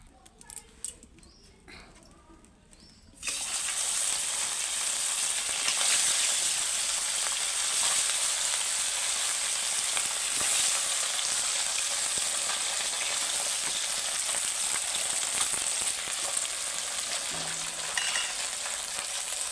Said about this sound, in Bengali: ওতে আমি মাছগুলো দিয়ে এক এক করে ভেজে নেবো